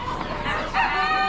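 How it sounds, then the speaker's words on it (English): Hens at an Amish animal auction, including barred rock and Delaware cross birds, cluck and call over a noisy barn backdrop, with a crowing-like tone rising in the second half. "Some other hens."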